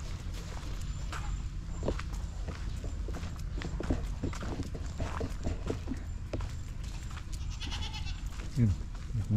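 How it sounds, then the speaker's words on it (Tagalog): A goat bleats on a farm where Bermuda grass is being planted, heard among footsteps and shuffling hooves, with people talking nearby. "Yun, may kambing."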